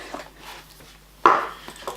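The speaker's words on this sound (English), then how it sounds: "I have really squeaky chairs" A squeaky chair gives one sharp creak partway through, with softer shuffling and small knocks around it in a quiet room.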